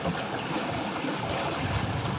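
A sailboat moves at about six knots on open sea, with a steady, close wash of water and wind rushing past the hull and no breaks or voices.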